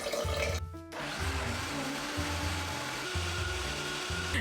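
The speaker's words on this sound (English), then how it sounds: "I'm gonna blend up some white beans and some nuts and seeds" A kitchen blender runs close and loud, whirring soaked white beans with nuts and seeds in water; the motor stutters briefly near the start, then settles into a steady, churning grind.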